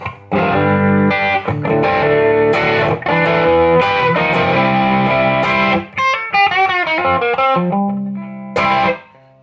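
A heavily driven electric guitar through a Chase Bliss Brothers pedal, overdrive with added gain, plays loud, saturated chords and riffs, ending in bending lead notes and a final short stab, with no talking.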